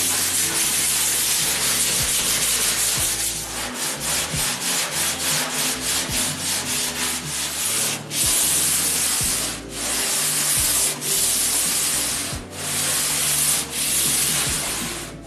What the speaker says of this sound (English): So after many hours of sanding,